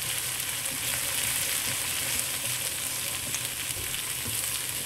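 Onions and chili paste fry in a pan over moderate heat for bee hoon goreng, giving a steady, dense, close sizzle that holds at an even level throughout with no speech.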